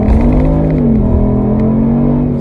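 A 2022 Kia Stinger RWD with a 3.3 engine accelerates hard, its loud, close exhaust note holding a strong, steady drone that climbs slightly in pitch as the revs rise.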